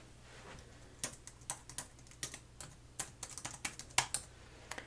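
Computer keyboard typing in a quiet salon consultation, a run of soft, irregular clicks and taps close by, with no voices.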